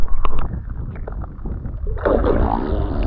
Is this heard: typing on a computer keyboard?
no